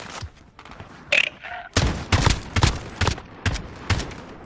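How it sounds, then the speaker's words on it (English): An AK-47 fires in a video game, with rapid bursts of automatic gunfire cracking loudly in quick clusters and a few sharper effects between them. "AK-47."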